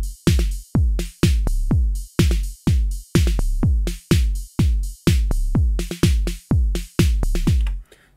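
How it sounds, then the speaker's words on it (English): A Modor DR-2 drum machine plays a sequence with randomly added hits: punchy, booming kicks and sharp snappy strikes in a loose, steady rhythm, loud and close with no talking. "So the sequencer is now randomly adding drum hits"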